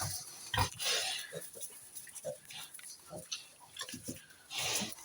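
Duman breed pigs grunt and oink in short irregular bursts, some close and some farther off, with occasional louder squeals.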